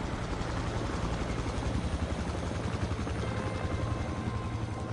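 Helicopter in the video game Battlefield Hardline, a loud continuous rotor thump and engine roar filling the whole stretch without a break, close and steady, during a prison escape mission.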